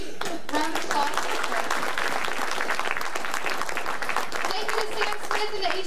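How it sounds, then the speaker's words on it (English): Concert audience at a college vocal music spring concert gives a big round of applause, loud dense clapping from many hands sustained throughout, with a voice briefly heard over it. "big round of applause."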